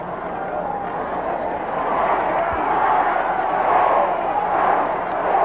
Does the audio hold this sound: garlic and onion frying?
no